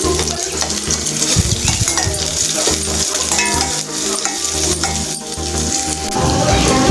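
Shallots and curry leaves frying in a pan for a garlic curry, with a dense sizzle under continuous music and some clinks and scraping, no speech.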